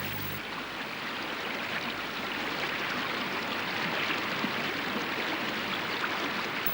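The sacred Ganges river flows in a steady, dense rushing wash of water, a continuous broadband roar with no breaks or voices.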